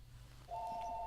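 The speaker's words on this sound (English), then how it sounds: "Of course, the phone has to ring yet again when we're trying to tape." A telephone ringing in the background, a steady electronic tone that starts partway through and holds loud and continuous to the end, with no talk over it.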